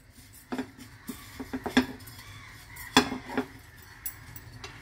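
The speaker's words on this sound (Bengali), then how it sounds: "শুধু এই তিনটে দিয়েও বানিয়ে নিতে পারবেন এভাবে রোস্ট করে।" Coriander, fennel and ajwain seeds dry-roasting in a metal pan, with scattered light clinks and scrapes of a spoon against the pan at irregular intervals, quiet and close, with no talking.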